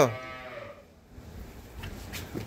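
A dairy cow at a cattle market lets out a loud, close moo right at the start that fades within a second, followed by quieter market background.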